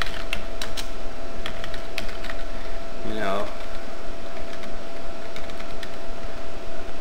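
Rapid typing on a computer keyboard to enter data in a database table, a steady patter of close, loud key clicks with a brief voice partway through.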